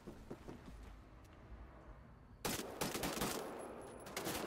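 Bursts of gunfire in the shooter Wolfenstein: The New Order, sparse faint shots at first, then a sudden loud volley of rapid repeated blasts that continues to the end.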